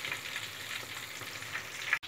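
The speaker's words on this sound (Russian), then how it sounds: "Мы жарим рыбку, которая называется трилья." Small red mullet fry in oil with a soft, constant sizzle and crackle at low volume, ending in a sharp click just before the end.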